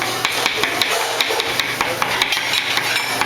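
Zucchini ribbons being cut by hand with a knife: light, fairly regular chopping taps under a constant bright hiss, with no talk.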